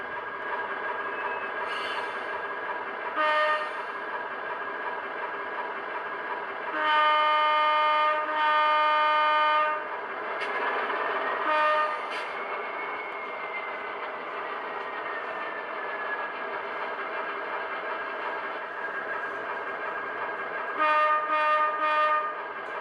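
A Rock Island train backing up during switching idles and creaks along slowly, with several short horn blasts sounding at intervals and a longer tonal squeal in the middle.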